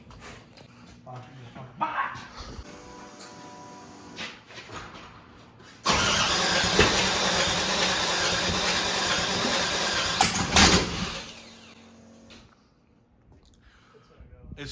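An LS-swapped Nissan Hardbody D21 pickup cranks over briefly, then catches and roars into a loud, steady idle that drops away near the end, with a dog barking and people talking around it.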